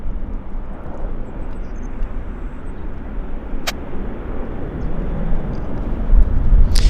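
A passenger airplane lands on runway 26 right at Vancouver International Airport, a steady loud jet roar that swells toward the end, heard alone without talk.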